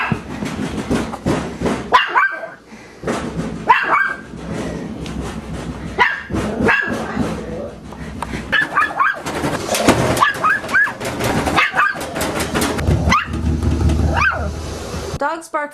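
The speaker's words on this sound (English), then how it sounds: "Dogs bark for many reasons" Dogs barking, including a reactive Chihuahua, in repeated sharp barks and yips at an uneven rhythm, close and loud, with some whimpering and a voice talking between outbursts.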